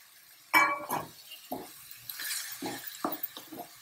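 A spoon clinks against a pot while split yellow moong dal and chopped beans are stirred, giving a few sharp metallic taps and scrapes spaced irregularly with quiet gaps between.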